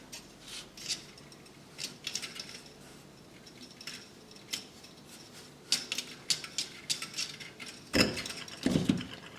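Beading wire snipped from its spool with small cutters during French beading work, quiet metallic clicks and snaps recurring irregularly, with a sharper louder snip near the end.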